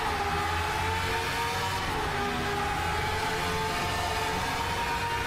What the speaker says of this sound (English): Great to hear the sounds of these cars.